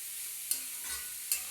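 Beetroot and potato curry frying in a pan, a soft steady sizzle with two sharp stir or utensil clicks about a second apart, quiet and close.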